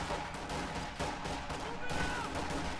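Company of Heroes 2 gunfire between Grenadiers and rear echelon troops, with bursts of rifle and machine-gun shots crackling at low volume under a commentator's voice.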